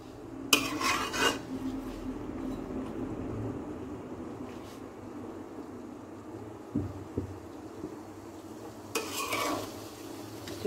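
Raw mango pieces stirred in hot oil over a medium flame for a sweet, sour and spicy pickle, a low soft sizzle with a few bursts of spoon scraping against the pan at the start and near the end.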